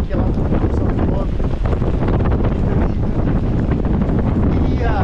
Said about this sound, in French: le vent vient du côté descendant